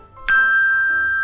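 Two handbells struck together give one bright, clear ring that starts abruptly and sustains evenly, fading only slightly, loud and close.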